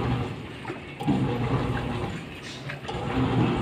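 A Samsung automatic washing machine filling with water, a steady close rush of running water lasting throughout without pause.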